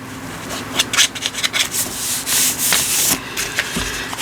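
Paper edges of a handmade journal card are trimmed close by, giving a run of rough, rasping scrapes and short strokes in irregular rhythm, with no talking.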